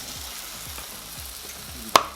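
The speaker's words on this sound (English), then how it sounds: "Hear that sizzle" Pork chops sizzle and crackle steadily in a hot cast iron pan, with a sharp metallic clink near the end.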